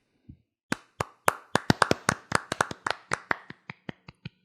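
Hand claps on a baseball podcast: about twenty sharp, close claps come in a quick, slightly uneven run, some bunched together and some spaced out, and they thin out toward the end, with no talk.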